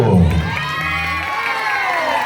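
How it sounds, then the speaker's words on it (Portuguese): A crowd at a festa junina dance contest cheers and shouts for a couple, a loud, dense mass of raised voices and whoops sustained through the short moment. "Palmas para esse casal"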